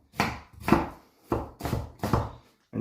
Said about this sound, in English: From there, we chop down this way,